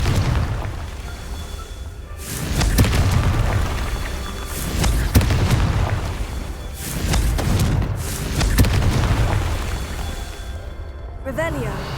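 Booming spell blasts from Confringo in the Hogwarts Legacy video game, several heavy thuds and explosive bursts spread over the stretch, loud and close, mixed with game sounds and voice.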